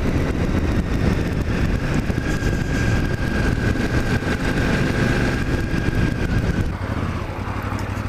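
A KTM 990 Adventure motorcycle engine drones steadily while riding, a loud continuous low rumble with a faint whine and heavy wind, easing slightly near the end.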